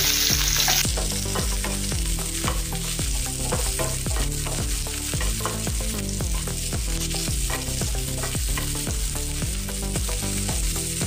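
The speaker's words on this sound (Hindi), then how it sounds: "प्याज ऐसे काटा है, ये देखिए ऐसे, वो इसमें डाल देंगे। थोड़ा सा इसको नरम कर लेंगे।" Chopped onion frying in oil for dhaba-style palak paneer, with a steady loud sizzle and repeated rhythmic scraping as it is stirred, no voices.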